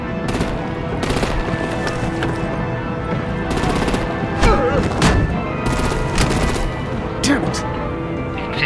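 Gunfire in the Batman Telltale Series: rapid machine-gun bursts crackle in repeated volleys over roughly eight seconds, loud and close, with voices talking amid the shooting.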